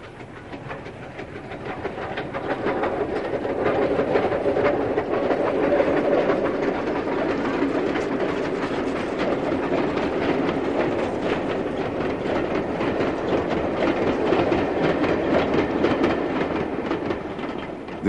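British Railways 2-10-0 steam locomotive Dame Vera Lynn runs on the North Yorkshire Moors Railway, giving a continuous loud rumbling chuff with hiss and rail clatter that swells early and then holds steady.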